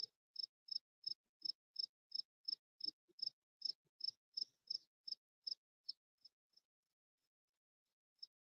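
A loud, nearby cricket chirps in a steady run of about twenty regular bursts, trailing off into fainter, sparser chirps and falling silent before one last chirp.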